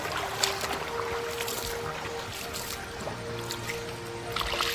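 Stream water flows steadily beside a waterfall at a village in a rocky stream bed, where two side channels join; a continuous broadband wash with faint splashes, moderately loud and alone, with no talk.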